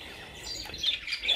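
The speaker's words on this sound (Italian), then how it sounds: "sono piccoli uccellini, forse misurano sugli 11 centimetri dal becco alla coda" Small captive Moluccan munias (Lonchura molucca), finches about 11 cm long, give faint, thin, high chirps that come in short scattered bursts against a quiet background.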